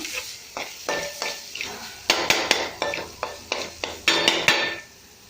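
Grated beetroot frying in a pan while being stirred: repeated scraping strokes of a spoon against the pan in an uneven rhythm over a steady sizzle, close and fairly loud, with no voices.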